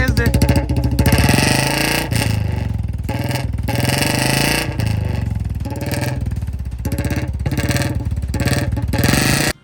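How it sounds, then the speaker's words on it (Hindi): Royal Enfield Bullet motorcycle ridden in Haryana, India, its engine thumping in a loud, rapid, steady beat with brief dips and surges as the throttle changes. "मेरा मोस्ट फेवरेट पार्ट, बुलेट चलाने।"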